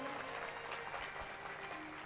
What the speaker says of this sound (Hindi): एक बार जोरदार तालियां आप सबके लिए